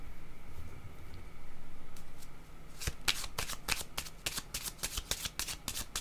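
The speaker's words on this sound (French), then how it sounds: "Je vais demander une carte sur la maison." Tarot cards being shuffled by hand for a reading, a quick rapid riffle of crisp paper slaps after a few soft handling rustles, close and alone.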